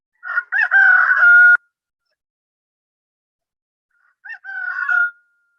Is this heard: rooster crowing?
yes